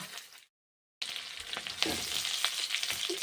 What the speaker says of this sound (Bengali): ভেজে নিচ্ছি পিঠেগুলো একটা একটা করে ভেজে নিচ্ছি